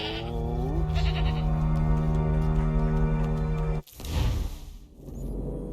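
A goat in Assassin's Creed 3 gives one long, loud wavering bleat lasting several seconds, cut off abruptly, followed by a brief whooshing rustle.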